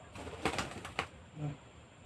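A pet parrot makes a few short calls, a couple of brief bursts and then a soft cooing note, close by in a quiet room.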